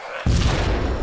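A single grenade explosion in the video game DayZ booms suddenly and loudly after a brief quiet moment, then rumbles on as a heavy low roar.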